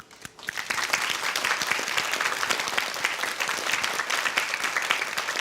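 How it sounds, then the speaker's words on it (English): An audience at a corporate debate-style competition bursts into applause after a brief quiet start, a thick, continuous wash of many hands clapping that holds strongly to the end. "let's give our contenders a big round of applause"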